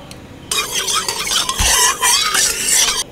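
Cooking oil goes into a hot kadai after a yam curry is taken off the gas. A sudden bright sizzle and crackle starts and keeps spitting and hissing up close, with a brief low thump partway through.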